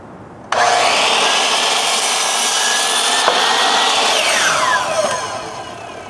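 A thick wooden board, about 1.5 inches, being cut with a power saw for a display sled: a sudden loud, steady rasping cut that holds for several seconds, then tapers off as the blade finishes, with no talking.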